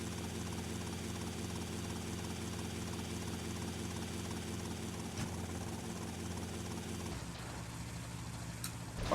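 Helicopter in GTA: Vice City with a steady, loud rotor drone and engine hum filling the air, the whir thinning and shifting abruptly near the end as the craft takes damage.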